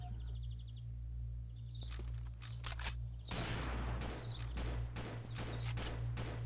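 Turret gunfire in an online shooter match, rapid bursts of shots crackling in a fairly distant, low-level clatter over a steady low engine-like hum, with no talking.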